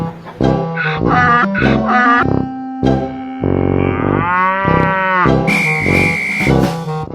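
A cow lows repeatedly in long, loud, drawn-out moos, close by and alone, with short pauses between calls and a higher, strained tone toward the end.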